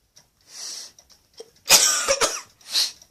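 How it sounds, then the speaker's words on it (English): A person coughs close to the microphone during a Google Home Mini setup, first a soft breathy cough and then a harsher cluster of two or three coughs, followed by one more. "Sorry about my cough."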